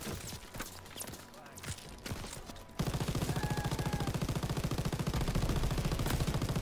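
Sustained machine gun fire in the World War II video game Call of Duty WW2 during the D-Day landing, a rapid steady stream of shots after a noisier stretch of scattered gunfire and battle ambience.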